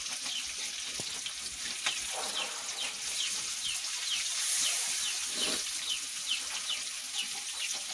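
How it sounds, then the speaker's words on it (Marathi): Mullet (boi) fish frying in oil in a pan after being flipped, a steady close sizzle with fine crackling spatter throughout, no voices. "बोईट मच्छी अशी पलटी करून घ्यायची आणि आपल्याला ती दुसऱ्या साईड पण आता एक 5 ते 7 मिनिटं शिजवून घ्यायचे आहे"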